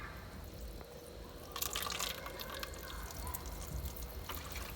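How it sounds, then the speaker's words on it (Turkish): Water streams and trickles over poured soil in a school erosion experiment, a faint steady flow with a brief louder splashing pour in the middle. "Toprağı döküyoruz ve toprak olduğu gibi akıyor."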